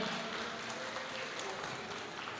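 Audience at an entrepreneurship gathering in Blitar applauds, a faint, distant, even patter of many hands that continues without a break.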